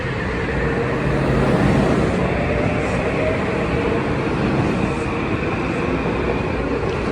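A New Haven Line train rumbles steadily close by as it departs Larchmont station, a broad continuous roar of wheels and machinery that holds at a fairly loud level throughout.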